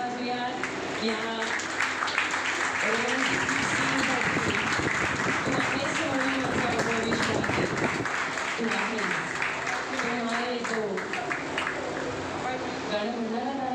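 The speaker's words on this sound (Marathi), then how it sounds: "जोरदार टाळ्या वाजूया या" Loud, sustained clapping from an anniversary event audience fills the whole stretch, with a singing or talking voice carrying over the applause throughout.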